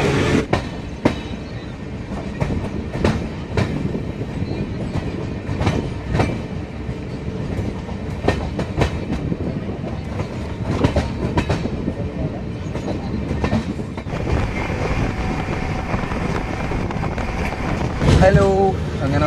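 A passenger train running on from Coimbatore rumbles steadily from inside the carriage, with rhythmic clickety-clack of wheels on rail joints, a brief squeal near the end, and no speech.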